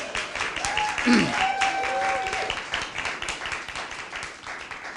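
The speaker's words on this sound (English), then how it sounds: "So let's give her a round of applause, please." Audience applause at an arts district kick-off event, a dense steady patter of clapping lasting several seconds with a brief whistle-like tone near the start.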